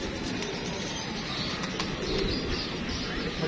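Pigeons released from a rooftop loft, with soft cooing, chirps and faint wing flaps over steady outdoor noise throughout.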